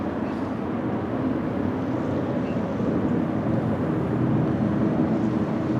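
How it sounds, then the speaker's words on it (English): An EasyJet A319 airliner arriving at Schiphol Airport on a windy, showery day gives a steady, broad distant roar mixed with wind noise. The sound holds level throughout with no talk. "EasyJet A319 coming in"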